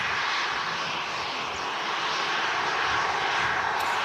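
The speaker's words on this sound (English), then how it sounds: "Full reverse being used there, I believe." A Ryanair Boeing 737 lands using full reverse thrust, giving a continuous loud, broad engine roar that holds steady throughout, heard from a distance at an airport with no voices.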